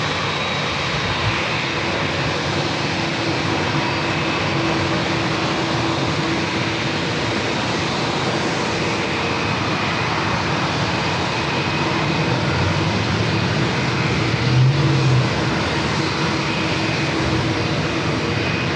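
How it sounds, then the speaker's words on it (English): Heavy jet airliners taking off back to back at San Diego airport, a steady loud engine roar filling the whole stretch with no break and only slight swells in level. "back-to-back heavy takeoffs"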